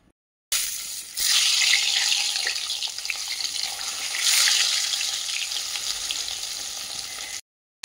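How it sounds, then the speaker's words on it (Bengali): Eggs fry in hot oil seasoned with salt and turmeric, a bright continuous sizzle that swells and fades slightly, cutting in abruptly after a short silence and stopping just as suddenly. "এরপর ডিমগুলো আমি ভেজে তুলে নেব"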